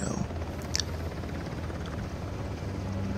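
A helicopter in the video game Uncharted: The Lost Legacy hovers nearby, a steady faint rotor thrum with a low droning hum and a few brief sharp clicks, heard alone without talk.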